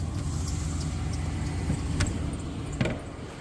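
A Pontiac Grand Prix engine idles steadily while warming up, a constant close low rumble with a couple of faint clinks over it.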